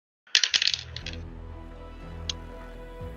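Dice are rolled during a Call of Cthulhu tabletop role-playing game, a quick burst of hard clattering that settles after about half a second, followed by a quieter tick or two.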